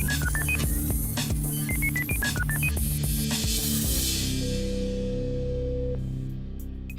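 A telephone call is dialed from a TV control room, a quick run of loud dialing beeps in varied pitches that gives way to a lower ringing tone over a steady background hum.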